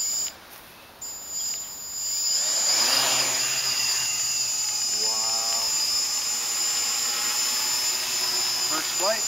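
A quadcopter drone on its maiden flight spins up into a high, steady whine that holds throughout, with people talking excitedly nearby.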